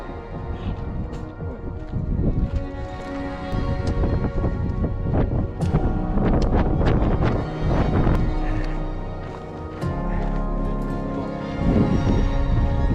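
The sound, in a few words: gusts of wind on mountain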